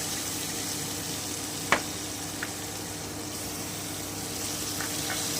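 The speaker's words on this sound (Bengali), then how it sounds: "এবারে আমি ধনে গুঁড়োটা দিয়ে দিচ্ছি আমি সামান্য একটু জল দিচ্ছি" Coriander powder and a splash of water meet spices frying in a pan with dried chilli for gathi kachu kaloji, giving a steady soft sizzle with a sharp tap near the start and faint clicks later.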